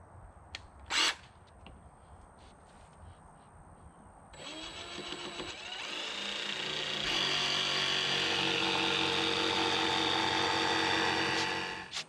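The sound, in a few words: jigsaw cutting plywood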